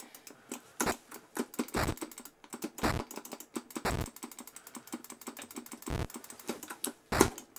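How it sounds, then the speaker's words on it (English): Rapid clicky typing on an old-school mechanical keyboard, sharp keystroke clicks in quick irregular bursts with brief pauses, close and fairly loud, no voices. "like a really good old school clicky keyboard"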